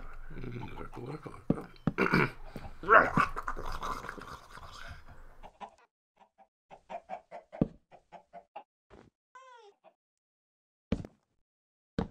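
Chicken clucking in a video game, a burst of clucks and squawks over background noise, then sparse short clucks and chirps spaced out with pauses, ending in a couple of sharp isolated calls.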